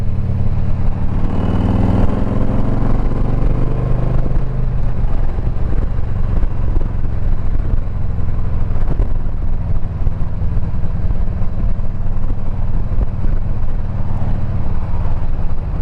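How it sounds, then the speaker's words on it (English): A Harley motorcycle engine idles after carburetor tuning, a loud, close, continuous throbbing rumble with an uneven lumpy beat throughout. "Bike's running awful good."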